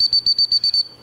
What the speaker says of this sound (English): Is usually the recall whistle.